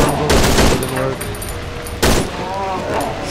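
Rapid gunfire in the horror video game Cry of Fear, a dense stream of loud overlapping shots with a second heavy burst partway through, with voices mixed in.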